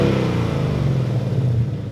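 A 2018-2023 Mustang GT fitted with a MagnaFlow Competition 3-inch axle-back exhaust revs up close and loud, a deep, rough engine roar holding steady through the short burst, with no talking.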